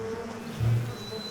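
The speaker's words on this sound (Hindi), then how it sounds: "इतनी बड़ी मधुमक्खी।" A big bee buzzes in a fantasy drama scene, a low droning hum that swells briefly and is heard alone over a faint background.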